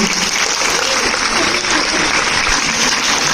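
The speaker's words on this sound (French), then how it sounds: "En tout cas, on vous applaudit une fois encore." An audience applauds award winners at a youth film prize ceremony, a steady wash of many hands clapping, loud and continuous with no pause.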